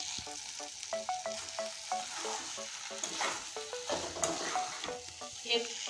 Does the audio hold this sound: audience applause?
no